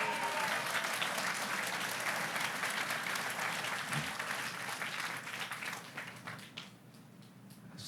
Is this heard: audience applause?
yes